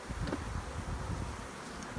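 Bees buzzing in a toolbox, a faint, low, continuous hum with brief close passes, mixed with light rustling and soft wind noise.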